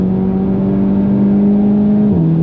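A Seat Leon Cupra Estate wagon accelerating hard on the Nürburgring, its engine droning loud and steady with a rising tone, then dropping briefly at a gear shift, heard from inside the cabin without talk.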